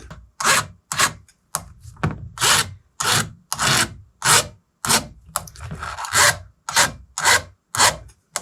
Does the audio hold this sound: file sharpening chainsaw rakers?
yes